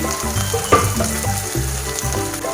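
Chopped tomatoes go into hot oil in a pan for an Andhra-style fenugreek and spinach dal, giving a steady close sizzle and frying crackle with a brief clatter as the pieces land, no voices.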